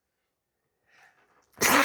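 One loud, abrupt sneeze close to a microphone, preceded by a faint breathy intake in otherwise quiet surroundings.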